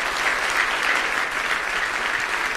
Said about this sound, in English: Give him another big hand clap of praise.